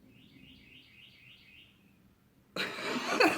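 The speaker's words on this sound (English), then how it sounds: "This fucking bird, man." A small bird gives a series of thin, rapid, repeated chirps, faint and somewhat distant, before a louder burst of noise cuts in near the end.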